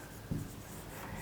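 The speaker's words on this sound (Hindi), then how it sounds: "यहाँ पे लिख देती हूँ मैं" One short, soft scratch of handwriting, as a teacher notes an answer during a Hindi current-affairs lesson, set against a steady faint room hiss.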